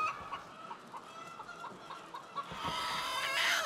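Hens clucking inside a henhouse, a string of soft repeated clucks at a steady pace, fairly faint and close, with a rise in busier farm noise near the end.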